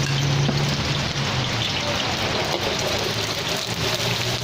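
Steady heavy rain pours down outdoors during open-air cooking of tom yum fish-head soup and shrimp fried rice, a loud continuous hiss with no speech.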